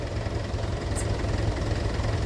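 A tractor engine idling nearby during cumin harvest work on a farm, producing a steady, loud low rumble with a continuous throbbing vibration and no talking.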